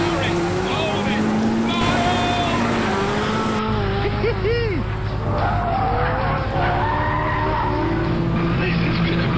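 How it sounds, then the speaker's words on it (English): A car skids through a big spin onto a runway, its engine droning loudly throughout while rising and falling tyre squeals cut across it, with someone talking over the sound. "now we're going for the big spin onto the runway"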